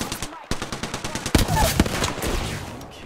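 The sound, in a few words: gunfire in the video game Apex Legends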